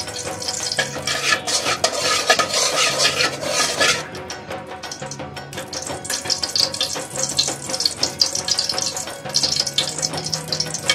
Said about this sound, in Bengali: কটা পাতলা করে পেঁয়াজ কেটে নিয়েছি, এটাকে ভেজে নেব